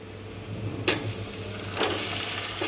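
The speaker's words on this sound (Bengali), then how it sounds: "এরপর এখানে আমি দিয়ে দিচ্ছি একটা গোটা কেটে রাখা টমেটো" Chopped tomato tossed onto browned frying onions gives a steady low sizzle broken by a couple of brief scraping stirs, close and without talk.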